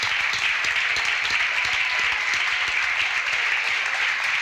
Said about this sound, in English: How about a round of applause for everybody who's done this?